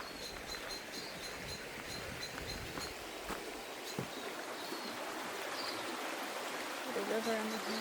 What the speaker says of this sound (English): The river on the hill.